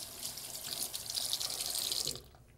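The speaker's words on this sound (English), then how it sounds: "then turn on the faucet, and then quickly wash it" Tap water runs from a sink faucet during hand washing, a close, steady splashing rush that cuts off abruptly near the end, with no voices.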